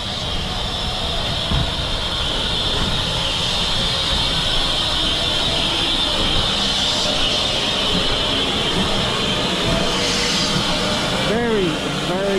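LMS steam locomotive 13268 pulling into Hampton Loade station on the Severn Valley Railway, a steady loud rumble and hiss with a rising whistle-like tone near the end, while someone talks over it.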